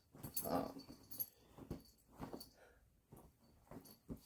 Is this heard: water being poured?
no